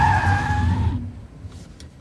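A 2006 Kia Rio locks its brakes during an emergency obstacle-avoidance maneuver, tires squealing in a loud, sustained screech that fades after about a second into road rumble and engine noise.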